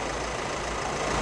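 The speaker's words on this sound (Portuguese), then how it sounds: "Uma melodia esse motor, hein? Que barulhinho top" The 2.0 engine of a Volkswagen Amarok idles close by with an even, steady low rumble during an oil change, and nothing else is heard.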